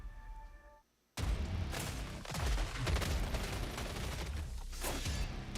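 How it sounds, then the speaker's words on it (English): Gunfire from a video game trailer in which several players gun down hordes of zombies: dense, loud, rapid bursts of shots and impacts, erupting suddenly after a brief quiet musical lead-in and continuing almost without pause. "Several players gun down hordes of zombies"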